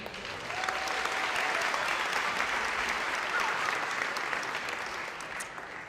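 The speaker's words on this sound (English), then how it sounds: "Let's give a final round of applause to everybody in our first category." Steady audience applause at a charity fashion show, a dense sustained clapping from a large crowd that holds loudly for the whole stretch with no speech over it.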